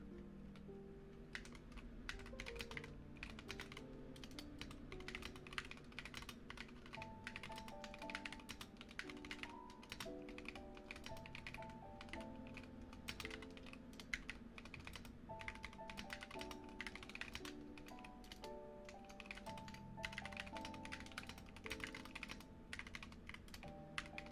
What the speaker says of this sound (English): I guess I will go for the 5-minute test here, so you get 5 minutes of typing.